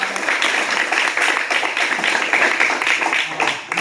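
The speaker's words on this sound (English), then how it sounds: "give another round of applause for our two speakers" Audience at a trade and military showcase giving a round of applause for two speakers, dense, loud, close clapping that continues steadily for several seconds with no talk.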